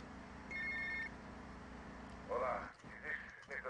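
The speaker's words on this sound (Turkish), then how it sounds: "Şimdi bir tane Cortez'in bir telefonunu açacağız." A telephone rings in the video game GTA Vice City, one short electronic ring near the start followed by a second ring, with someone talking over the game audio.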